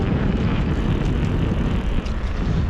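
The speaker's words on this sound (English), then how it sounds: "You can hear the knobs on the concrete." Knobby tires of a Surface 604 Shred XS electric mountain bike roll over concrete, making a loud, continuous rumbling hum with wind noise mixed in and no pauses.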